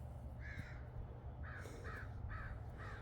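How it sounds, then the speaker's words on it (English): Several harsh caws from crows call out in the distance, a few spaced calls followed by a quicker run, over a low background rumble. "You hear crows in the background."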